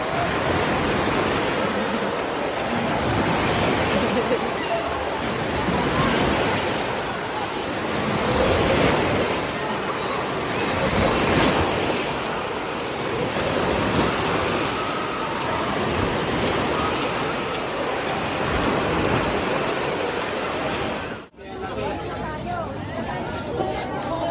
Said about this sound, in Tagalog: Mini waves.